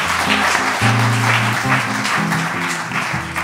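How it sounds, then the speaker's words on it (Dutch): An audience applauds at a health café evening, a loud, steady clapping with a humming tonal drone running beneath it throughout. "Maar geef ze even een groot applaus."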